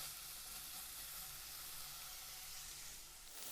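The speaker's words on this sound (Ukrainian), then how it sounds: "наш порізаний бекон, цибулю і часник. І це все ось так трішки обсмажуємо" Chopped bacon, onion and garlic frying in oil in a pan, a faint steady sizzle and hiss that runs without a break and carries no talk.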